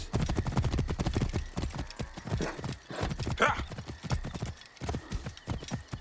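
Rapid rhythmic hoofbeats of a galloping racehorse in the video game Assassin's Creed Odyssey pound steadily and close up, with a brief whinny partway through and a voice now and then.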